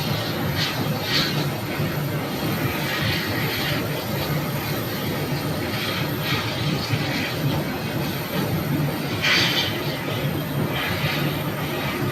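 An Airbus A321 airliner at Phoenix airport, a steady broad engine roar heard from a moderate distance, continuous with slight swells throughout.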